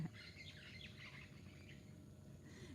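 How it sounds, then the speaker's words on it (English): Parrots call in scattered bright chirps and squawks at moderate distance, faint over a steady hum of outdoor ambience. "You hear the parrots, oh, they're so beautiful."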